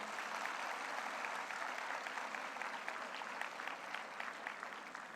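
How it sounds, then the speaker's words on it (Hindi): A convocation audience at a hospital ceremony claps more vigorously for performing students, a sustained, even roar of many hands filling the hall and tapering slightly near the end. "तालियों में थोड़ा दम होना चाहिए।"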